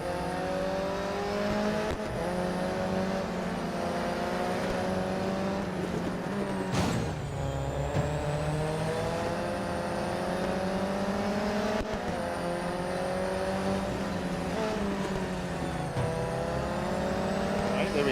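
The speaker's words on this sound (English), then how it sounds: "Oh, listen to that roar." Race car engines roar steadily at Monza in the video game Real Racing 3, a loud continuous drone with shifting pitch as cars accelerate and change gear throughout.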